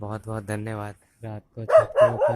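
Local street dogs barking at a tent on a rooftop at night, a few short barks near the end under someone speaking in Hindi.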